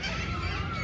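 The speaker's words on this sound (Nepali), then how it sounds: "यहाँ चरा कस्तै आएको छ है" Birds gather over a ripened rice field, their honking, goose-like calls blended into a dense, continuous outdoor din, loud and constant.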